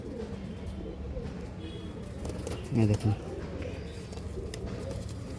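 Madras pigeons kept for sale coo softly in a brief burst midway, heard over steady background noise while someone talks nearby.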